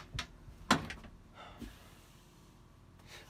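A closet work drawer holding point-mounted beetle specimens slides open with a few close, sharp clunks and a brief scrape, followed by quiet rustling.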